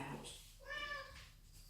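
A pet cat lets out a single drawn-out meow indoors during a card-making craft session, fairly close over a low background hiss.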